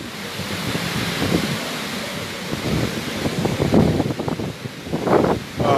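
Hard, gusty wind roars during Hurricane Ida, with trees hanging over power lines, a loud continuous rush swelling and buffeting against the microphone.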